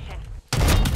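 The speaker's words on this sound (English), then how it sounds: "Oh, I got sniped." A sniper rifle shot hits the player in Call of Duty: Warzone, a sudden loud broadband blast after a brief hush, with dense crackling gunfire layered over it.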